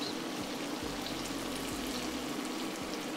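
Combro frying in oil in a pan, a soft, steady, faint sizzle and bubbling with no talking.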